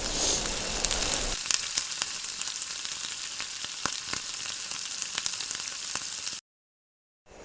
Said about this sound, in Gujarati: ત્યારબાદ આપણે જે ટોપિંગ કરેલું તેને આપણે ઘીમાં થોડું સાતળશું